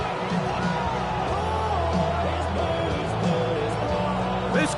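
A stadium crowd at an NFL football game between the Patriots and Bengals roars steadily with whoops and yells, a dense distant wall of cheering under a commentator's voice.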